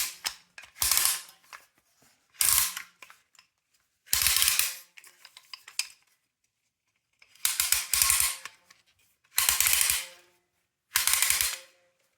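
A Rabaconda-style ratchet attachment clicks on a ConStands MD4Z tire changing tool, heard close and crisp in six separate bursts of rapid ratcheting clicks with quiet pauses between them.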